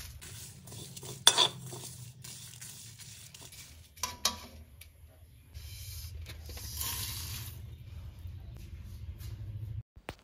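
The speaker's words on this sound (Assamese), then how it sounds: "ফাৰ্ষ্টত এইখিনি শুকান কেৰাহীখনত দি অকণমান ভাজি লৈ পেলাই ঠাণ্ডা হোৱাৰ পিছত গ্ৰাইণ্ড কৰি ছাইডত থ'ম।" Cumin, paan masala and dried chilies are dry roasted in a pan. A utensil stirs and scrapes against the metal now and then, with a few clinks, over a faint steady frying hiss in a quiet kitchen.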